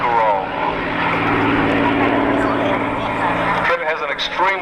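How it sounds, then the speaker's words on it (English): A propeller airplane roars through a high-speed low pass, then pulls up into a vertical climb and roll during an air show display at Matamata Airfield, the engine loud and sustained as it drops away near the end. "And they built up quite a bit of speed on that run, pull up the vertical again, and the vertical roll."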